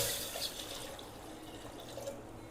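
Water runs and splashes steadily into a cooking pot, a soft continuous pouring sound with faint drips, heard up close.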